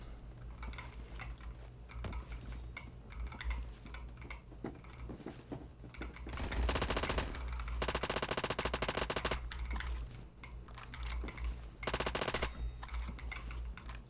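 Automatic gunfire in the Roblox game Phantom Forces, with short bursts early and two long, loud rapid-fire strings in the middle and near the end, quieter gaps of clicks between them.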